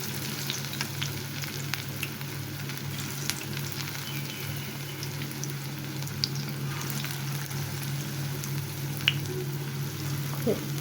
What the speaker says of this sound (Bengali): এভাবে ভেজে দিচ্ছি